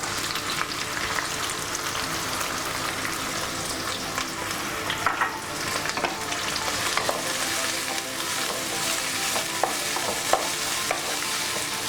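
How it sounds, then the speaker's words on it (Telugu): Chopped onions and green chillies fry in hot oil in a kadai, giving a steady, dense sizzle and crackle with occasional stirring scrapes throughout, close and fairly loud with no talking. "ఇవి మనం పచ్చివాసన పోయేదాకా ఫ్రై చేసుకుందాం."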